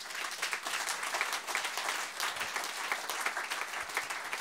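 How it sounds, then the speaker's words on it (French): A church congregation at a French-language online worship service applauds loudly and steadily, a dense wash of clapping that holds throughout with no clear speech on top. "Acclamons très fort le Seigneur."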